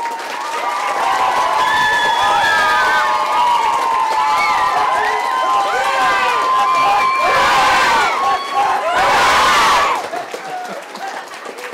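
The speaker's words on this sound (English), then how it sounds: "We need to give a big round of applause to the teachers" A school audience at a Three Kings play gives loud, sustained applause for the teachers, with cheering, whoops and children shouting rising in bursts over the clapping for about twelve seconds.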